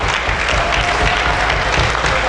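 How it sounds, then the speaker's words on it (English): Sustained applause from a crowd at an African youth Scrabble championship gala and awards event, dense steady clapping filling the whole stretch without a break. "we need to give the organizers another rousing round of applause"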